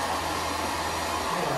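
A hair dryer blows steadily at close range, drying a young woman's freshly cut short hair in a salon, a constant loud airy whoosh with no breaks and no talking.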